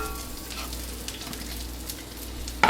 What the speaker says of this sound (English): we're going to start now by just sauteing the onion